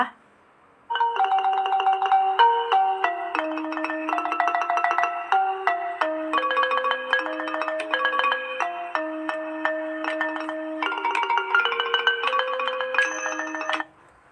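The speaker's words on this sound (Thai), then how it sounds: "นี่คือเสียงของระนาดเอกนะคะ" A ranat ek xylophone plays a fast, unbroken melody of bright struck notes, steady and clear with no other sounds.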